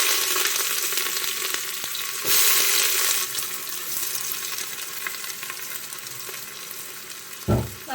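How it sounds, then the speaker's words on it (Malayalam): Four sliced onions drop into hot oil in a pressure cooker and fry with a loud, steady sizzle, a brief louder burst near the start and a clatter close to the end, with no voices. "എണ്ണ ചൂടായി കഴിഞ്ഞാൽ അതിലേക്ക് ഒരു 4 സവാള അരിഞ്ഞത് ചേർത്ത് കൊടുക്കാം."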